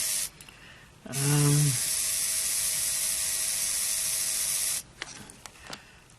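Electric motor of a Trix model train locomotive whirring at a steady high pitch for several seconds, starting with a rising whine and then cutting off abruptly, close and fairly loud, with small mechanical clicks before and after.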